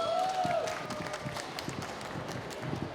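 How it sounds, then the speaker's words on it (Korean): Audience applause at an autism conference session, a steady wash of clapping hands from a seated crowd that holds at an even level throughout, with no talking over it. "박수로 모실게요"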